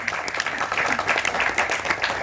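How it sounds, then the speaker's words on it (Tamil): Audience applause fills a movie audio launch hall, with dense, even clapping from many hands that stays steady and moderately loud throughout. "அது சொன்ன உடனே எவ்வளோ கைத்தட்டல் பார்த்தீங்களா?"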